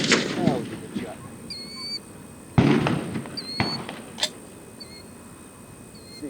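Sharp gunshot cracks from a DPMS AR rifle fired outdoors in a yard, a few separate loud reports spaced seconds apart, with birds chirping faintly in the background.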